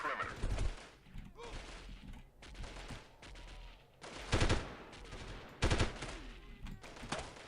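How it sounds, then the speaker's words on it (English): Gunfire in the 1998 video game Delta Force: repeated bursts of rapid automatic shots from several weapons, loud and close, separated by brief lulls, with no talking. "they are shooting at us, and the shots are starting to get accurate"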